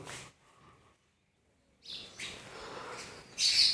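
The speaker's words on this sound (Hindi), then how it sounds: "चिड़िया तंग कर रही बच्चों" A small bird chirps close by during an online maths class, giving a few bright, high tweets that come in short bursts over quiet room noise, strongest near the end.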